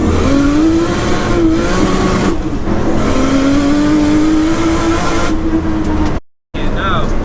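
A 700bhp Nissan R33 Skyline engine pulls hard and rises steadily in pitch under acceleration, loud and close from inside the cabin, with a brief dropout near the end.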